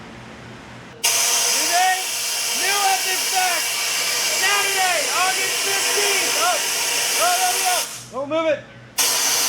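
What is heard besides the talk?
air blown through Audi RS5 exhaust pipe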